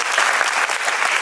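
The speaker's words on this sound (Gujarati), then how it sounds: "જોરદાર કલાકારો માટે એક વખત તાળીઓ થઈ જાય." An audience at a school cultural program applauds the puppet show artists with dense, steady clapping that fills the whole short moment, close and lively, with no talking.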